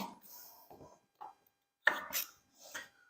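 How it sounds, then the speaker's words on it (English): Knife chopping potatoes into small pieces on a board, heard as a few sharp, close strikes spaced irregularly with quiet gaps between them. "we'll just chop them into small pieces because, to be honest, you're just going to be boiling them"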